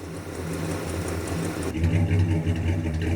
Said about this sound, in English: She's idling pretty good.